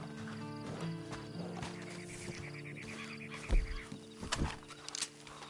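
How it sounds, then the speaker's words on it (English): Hooves clop in a game over a busy background of music and ambient noise, with a few louder thumps near the end. "And you better get on this horse."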